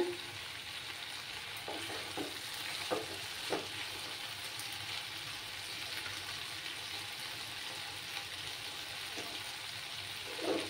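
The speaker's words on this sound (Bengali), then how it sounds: "এবার আমি গরম জল দিচ্ছি, যাতে করে আমার সবজিগুলো তাড়াতাড়ি সেদ্ধ হয়।" Hot water poured into a pan of sizzling cauliflower stalks and vegetables, a steady close frying hiss with a few soft stirring clicks and taps throughout, no voices.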